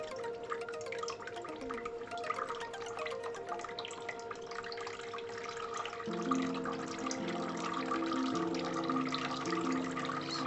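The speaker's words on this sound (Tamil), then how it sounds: "எல்லா ஹோல்லையும் தண்ணி வர மாதிரி இருக்குது" Water runs steadily out of the holes of a homemade fountain built from an oil can, a continuous soft splashing trickle with scattered drips and a faint steady hum beneath.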